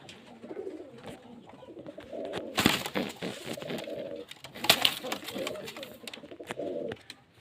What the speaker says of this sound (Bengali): পায়রা পায়রা দেখতে পাচ্ছেন